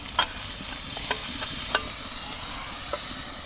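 Ginger, garlic and cumin paste goes into a pan for a tender chicken curry, giving a soft, faint sizzle broken by a few sharp taps of a spoon stirring against the pan.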